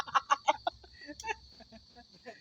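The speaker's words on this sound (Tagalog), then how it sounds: "Mil, mga kasama ko maraming manok eh." Chickens clucking at close range, a quick run of loud clucks at first, then softer scattered clucks over a faint steady background hum.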